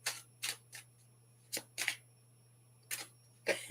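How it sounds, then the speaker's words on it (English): Quick riffling bursts of a deck of cards being shuffled, several short crisp flutters in irregular clusters, close and fairly quiet over a low hum. "let me just give it a nice quick little shuffle"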